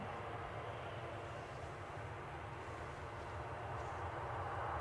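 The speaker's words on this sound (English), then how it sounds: "As we track out with this Jet2 757 off to the sunnier climes of" Jet2 Boeing 757 airliner departing Edinburgh International Airport, its engines a steady, loud broadband roar that holds constant and swells slightly toward the end, with no voices.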